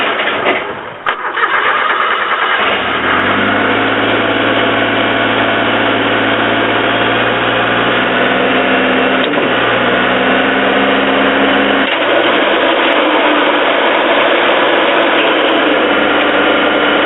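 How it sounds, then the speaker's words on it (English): An old tractor engine, a Model 49, cranks and catches, then idles and runs steadily while driving a snow blower, a loud close mechanical drone with a couple of brief load changes and no speech. "but it does run, and it does turn the snow blower."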